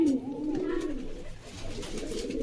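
Pigeons of different breeds coo at close range in a steady, throaty warble that rises and falls across the clip.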